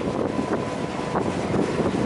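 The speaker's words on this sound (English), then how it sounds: "It's really windy," Steady, loud wind buffeting the microphone near wind turbines, a continuous rushing roar with low rumble and no voices.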